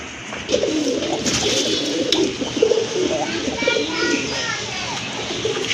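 Soft coos from fancy pigeons at a pigeon sale rise and fall steadily beneath people talking nearby, with faint chatter and other bird calls in the background.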